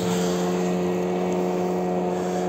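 Outboard motor of a nearby fishing boat on the Gorky estuary: a steady, loud droning hum with a strong even tone, holding constant without breaks and with no talk.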